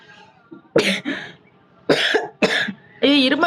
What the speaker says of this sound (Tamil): இது இருமல் வேற வருது.